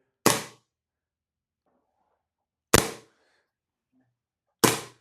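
A gas airsoft pistol fired in semi-auto: three sharp, loud, close cracks, each ending quickly, spaced a couple of seconds apart with near silence between them.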